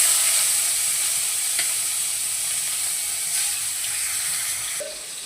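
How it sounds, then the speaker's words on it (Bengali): Cauliflower florets fry in hot oil in a home kitchen, giving a continuous loud sizzle with a soft scrape or two. The sizzle eases slightly near the end. "এবার ফুলকপিগুলোকে ভেজে তুলে নেব।"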